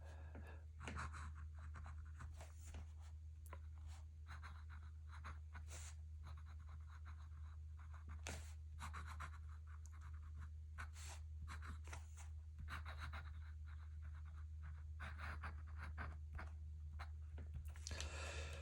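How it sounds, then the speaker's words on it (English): A Kaweco Brass Sport fountain pen scratches across paper in close, quiet strokes, with short bursts of nib scraping separated by brief pauses, set against a low steady hum and no talking. "Let's see if I can give you a little writing sample"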